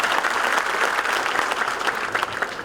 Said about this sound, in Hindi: उसके लिए एक दफ़ा बहुत सारी तालियाँ